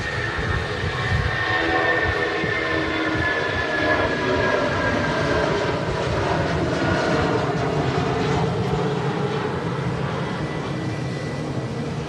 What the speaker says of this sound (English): some of these aircraft are holding